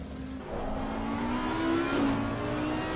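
A GT3 race car engine at Suzuka in the sim racing game Assetto Corsa Competizione, a steady, loud, high engine drone rising in pitch as it accelerates through a fast corner, with no talk over it.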